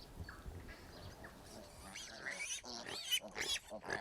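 Pigs kept in an Auckland Council park grunt and squeal in short, uneven bursts, fairly close, with birds chirping faintly in the background.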